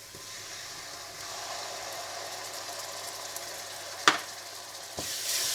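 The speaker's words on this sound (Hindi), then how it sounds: "प्याज को हल्का सा भूनने के बाद आप इसमें डाल दें पिसा हुआ अदरक लहसुन" Onion and ground ginger-garlic paste fry in a pan, giving a steady, close sizzle with a few sharp clicks near the end and no voices.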